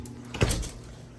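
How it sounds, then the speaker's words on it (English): A cabin's front door opens with a single short knock and thud, close by and moderately loud over a quiet room. "Okay, so open the front door."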